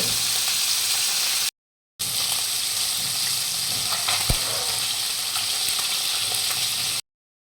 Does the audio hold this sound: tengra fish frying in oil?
yes